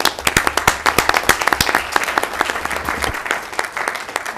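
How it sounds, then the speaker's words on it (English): Attendees at a school board work session give a round of applause for the MPE principals, steady close clapping from a modest crowd with distinct individual claps throughout. "So a round of applause, I think, for the MPE principals."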